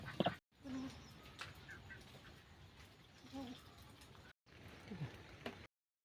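Village chickens and ducks at a rural home on a drizzly day, with soft scattered clucks and faint fowl calls amid quiet outdoor background, distant and low in level.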